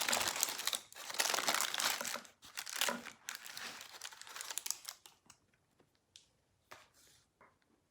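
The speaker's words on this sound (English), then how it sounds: "And then you just need to peel away the parchment." Parchment paper peeled away from a freshly baked egg white bread loaf, a close, crisp crinkling and rustling that comes in bursts and grows sparse and quieter toward the end.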